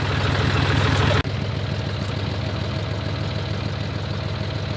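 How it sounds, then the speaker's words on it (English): A tractor engine runs steadily during fence-post digging, a close low idling drone with a louder burst at the start, then an even mechanical hum without speech. "The tractor does all the work."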